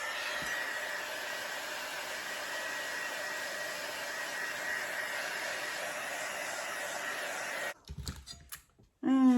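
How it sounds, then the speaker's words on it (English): A heat embossing tool blows a steady, even whoosh close by over fluid art paint on a plywood paddle, then cuts off near the end, followed by a few brief clicks and handling knocks. "I'll just hit it with the heat embossing tool"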